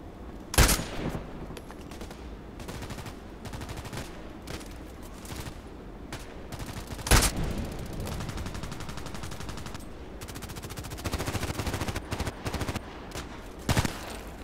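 Gunfire in the video game Contract Wars: a few sharp, loud shots spaced several seconds apart over steady background noise, with quieter rapid bursts in between.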